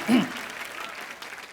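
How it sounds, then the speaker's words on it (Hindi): A studio audience at a Hindi comedy show breaks into applause, a sharp loud burst that settles into steady sustained clapping. "कुछ भी नहीं कहना फिर भी ताली और हंसी।"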